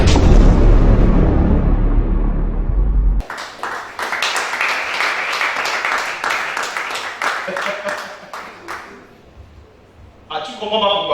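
A congregation at a prayer vigil in Gabon breaks into applause and cheering, a dense, steady clapping that follows a loud, booming stretch of amplified sound and fades toward the end.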